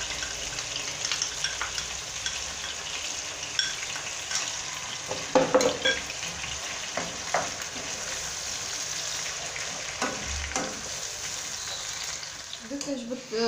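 Liver sizzles in a pan with tomatoes, curry, garlic and salt, a steady close frying hiss broken by clicks and scrapes of stirring.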